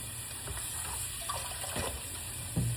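Tap water running into a sink while rinsing, a quiet steady stream with a few soft splashes and clunks, close by and continuous.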